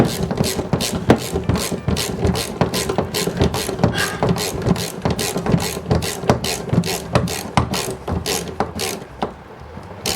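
A bolt is ratcheted through a bracket and pre-threaded for a home brew setup, a rapid, evenly spaced clicking of a ratchet close by, about two clicks a second, slowing and stopping near the end.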